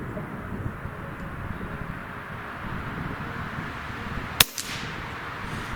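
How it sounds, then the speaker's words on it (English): A single sharp crack from an Air Venturi Avenger PCP air rifle with a laminate wood stock, fired at a turkey target 30 yards away outdoors, stands out once near the end over a steady breezy background. "So now we're going to shoot for the eyeball on that turkey"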